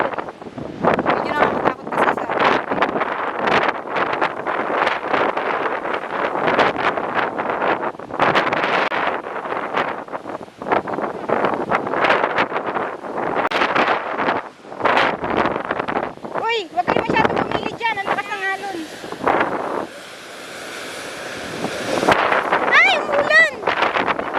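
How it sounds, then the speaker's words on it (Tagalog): Strong gusting wind roars and buffets the microphone almost continuously on a coastal hike at Cape D'Aguilar, Hong Kong, with voices breaking through near the end. "Masyado malakas yung hangin eh"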